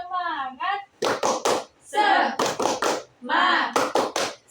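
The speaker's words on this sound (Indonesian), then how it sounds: "Tepuk semangat." A group claps in a quick rhythmic pattern, bursts of several sharp claps separated by voices calling out in between, close and lively.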